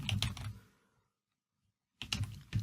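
Rapid clicking keystrokes on a computer keyboard while entering a SQL query, a close burst of typing, a brief pause, then another burst.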